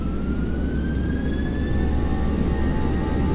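Boeing 737-700 jet engines spooling up to takeoff power in the X-Plane 11 flight simulator, a loud, steady roar with a rising whine that climbs in pitch throughout.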